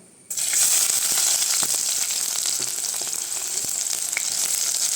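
Loud, steady sizzling of shallots dropped into hot coconut oil, starting abruptly and crackling continuously with small pops throughout.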